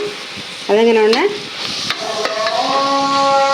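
Onions sautéing with a pinch of salt in a pan for mutton chukka, a steady close sizzle and scraping stir, with brief tonal squeaks or a voice-like whine early on.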